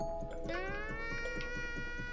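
A cartoonish cat meows in the Yoshi's Crafted World video game, a clear rising then falling tonal meow heard over a soft, steady rhythmic game music loop, close and distinct, no talking.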